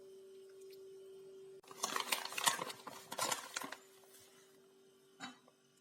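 A spoon scrapes and clinks against a bowl while sour cream, sugar and cocoa are stirred into a glaze; after a quiet hum the close, irregular stirring bursts come busy for a few seconds, then a single clink.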